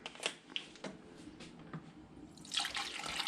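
Apple cider vinegar pours into a jar of sliced cucumbers for bread and butter pickles, a light liquid splash and trickle that swells toward the end, close by in a quiet kitchen.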